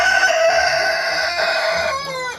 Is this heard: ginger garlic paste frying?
no